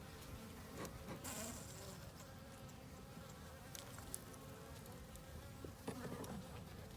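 Honey bees buzz steadily in an opened nuc hive during a January inspection, a continuous close, soft droning hum with occasional faint clicks and handling noises, no speech.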